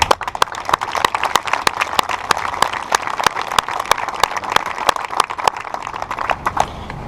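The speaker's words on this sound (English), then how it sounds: "Please join me in applauding the FMTB staff for making a difference." Audience applauding the FMTB staff at a graduation ceremony. Crisp, steady clapping from a sizable crowd, loud and continuous, with no talking over it.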